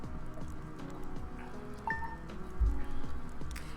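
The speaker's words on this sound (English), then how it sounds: "Oh, it's raining!" Rain in a farming video game falls as a steady patter of soft drips and small splashes, mixed with light game sounds and faint tones, at a moderate level with no one speaking.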